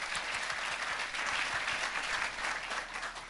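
A church congregation applauds steadily, a dense, even wash of many hands clapping at a distance with no break.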